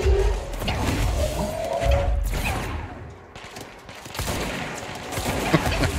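Gunfire from the video game Control: dense bursts of shots and crashing impacts with a short lull midway before the firing picks up again.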